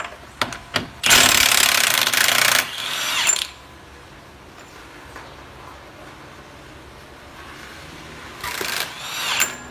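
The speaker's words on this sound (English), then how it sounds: "If you have a strong enough impact gun, it will just break that peen." An impact gun hammers off a peened axle nut in two loud bursts, a long rattling run near the start and a shorter one near the end, with quiet shop ambience between.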